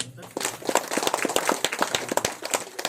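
Audience at a religious assembly in Gartikere clapping loudly, dense fast hand claps building quickly and holding steady, close and energetic, with a voice mixed in.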